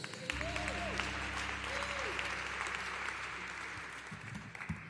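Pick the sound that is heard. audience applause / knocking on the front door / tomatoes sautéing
audience applause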